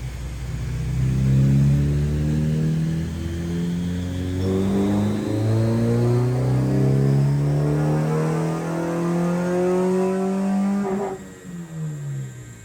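A Honda B16A engine fitted with CTR pistons and an ITR cam revs steadily on a dyno up to about 6,000 RPM, its loud harmonic engine note climbing smoothly before dropping off near the end, with no talking.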